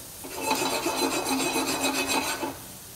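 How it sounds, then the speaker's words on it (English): Spice seeds pop and sizzle in a hot, dry pan while being roasted for black bean cakes. A steady, rasping crackle runs loud and close for about two seconds with a faint rhythmic pulse, and no talk is heard. "We can hear these seeds popping"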